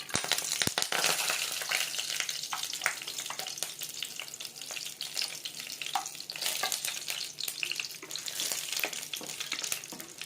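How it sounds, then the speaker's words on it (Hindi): Dry spices frying in hot oil in a kadai while chili chicken is prepared, giving a steady close crackling sizzle with scattered sharp pops and the scrape of stirring throughout, with no voices. "अब हम इसमें कढ़ाई में तेल डालेंगे। अब हम इसमें सूखे मसाला डालेंगे।"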